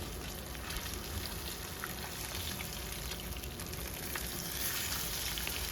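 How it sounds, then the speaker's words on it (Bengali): Pieces of katla fish frying in hot oil in a pan, turned to cook the second side, give a steady, dense crackling sizzle that holds at an even level throughout with no talk. "এখন পাল্টে আর একটা সাইড ভেজে নিচ্ছি।"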